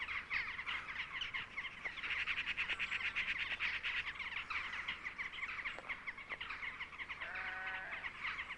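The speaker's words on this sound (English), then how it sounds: "Crows, rooks and jackdaws flock in for the feast, with a few magpies tagging along." Crows, rooks, jackdaws and magpies gathered at a feeding spot keep up a dense, continuous chorus of overlapping caws and chattering calls, with a few sharper clicks and a brief squeaky call near the end.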